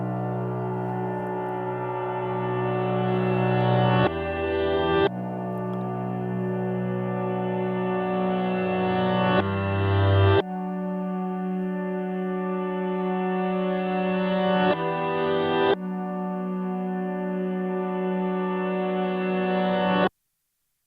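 A reversed piano phrase in an intro remake, sustained tones that swell and cut off abruptly in repeating blocks of roughly five seconds, loud and alone.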